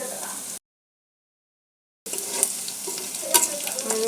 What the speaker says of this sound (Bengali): এখন জিরা কালো জিরা দিয়ে দেবেন